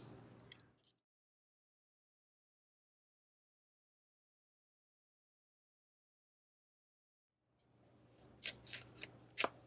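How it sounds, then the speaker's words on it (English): Tarot cards are shuffled in brief bursts of crisp riffling and flicking, with a long silent gap between the opening and closing rounds of shuffling. "I'm going to shuffle these up again"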